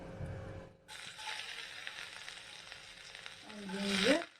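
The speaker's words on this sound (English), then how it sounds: "Let's start frying the curry" Garlic and ginger hit hot oil for an egg curry, bursting into a loud sizzle after a brief quiet moment and swelling with crackling toward the end.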